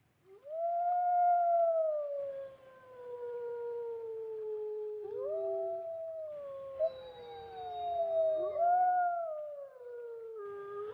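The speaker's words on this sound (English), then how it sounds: "I howl with the wolves." Several wolves howl together in a radio drama, long rising and falling cries overlapping in chorus, loud and close with a quiet background.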